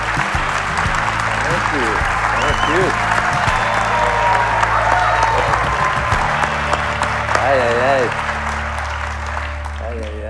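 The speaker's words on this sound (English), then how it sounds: "Well-deserved applause" Sustained audience applause fills a podcast room, dense steady clapping with a voice speaking over it and brief vocal tones rising above the crowd.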